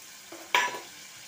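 Poppy seed paste frying and being stirred in a pan for an egg curry, a short close burst of sizzle and scraping that rises sharply and fades within a second.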